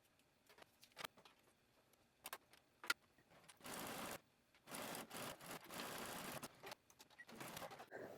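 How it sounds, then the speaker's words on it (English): A sewing machine stitches a back seam on a garment with a stretch stitch, running in several steady whirring bursts of a second or two with pauses between them, after a few soft clicks and handling noises. "So let's head over to our sewing machine."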